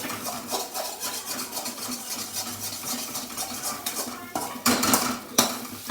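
A utensil beats and stirs eggs in a pan for an egg puriyal, producing rapid metallic clinks and scraping in an uneven rhythm, with louder knocks toward the end.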